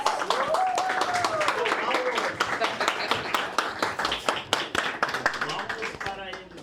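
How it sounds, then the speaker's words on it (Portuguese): Lecture audience applauding as a speaker takes the stage: dense, steady clapping throughout, with a few whistles and voices mixed into the crowd noise. "palmas!"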